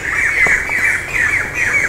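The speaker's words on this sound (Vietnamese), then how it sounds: "Ồ, chim hót à" Birds calling outdoors near a Buddhist temple on a mountain, a steady series of loud, close, high squawking chirps repeating through the whole stretch with no talk.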